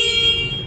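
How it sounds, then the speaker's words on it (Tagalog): Stock horn of a 2024 QJ Motor Fortress 160 motorcycle sounding one steady, loud, sustained beep, close by and alone. "Pakinggan natin yung kanyang horn."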